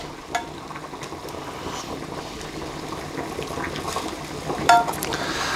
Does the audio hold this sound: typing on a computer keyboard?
no